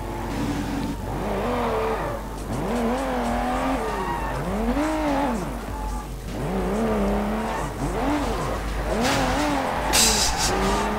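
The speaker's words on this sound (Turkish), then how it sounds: "Kaza yaptı yanımızdan geçen araba galiba." Game car engine in Sleeping Dogs, loud and continuous, with repeated revving swells and rising-falling pitch sweeps as a vehicle races and skids close by, ending in a brief bright burst like a crash.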